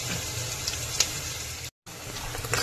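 Onions and bay leaves with a pinch of turmeric fry in four to five tablespoons of oil for an Andhra-style soya chunk vegetable pulao, giving a steady, close broadband sizzle with a brief stir clink and a short gap partway through.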